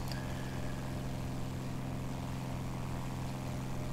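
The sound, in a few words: F-82E Twin Mustang propeller aircraft flying, from video game War Thunder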